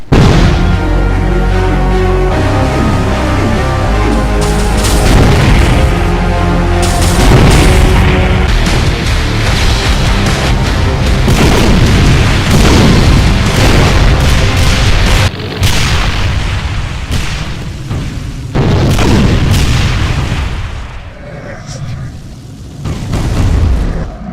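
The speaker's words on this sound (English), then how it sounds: "Firing multiple shots of slow but long-lasting wall-bouncing homing plasma shots." A Mancubus variant in a Doom mod fires slow, wall-bouncing homing plasma shots in a long, loud stretch of overlapping booms and bursts, with a dense, chaotic combat din throughout.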